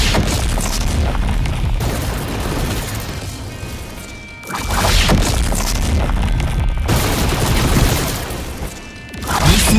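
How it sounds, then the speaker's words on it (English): Lightning strikes from the Z3 Dragon ability in Blox Fruits, a video game, come as loud booming crashes in repeated heavy bursts with brief dips between them, and no voices. "watch as I use the third Z ability, the Z3 Dragon, in the same way"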